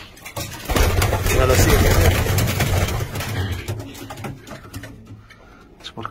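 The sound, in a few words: pigeons cooing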